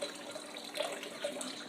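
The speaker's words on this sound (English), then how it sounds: "I'm going to pour half of this chicken broth into my blender." Chicken broth pours into a blender jar for a salad dressing, a quiet, steady liquid splash with a couple of slightly louder gurgles near the end.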